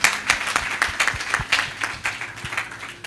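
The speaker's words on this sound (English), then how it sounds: "A round of applause." Audience applause at a business masterclass panel session, a steady burst of many hands clapping that fills the whole stretch at fairly close range, with no talk over it.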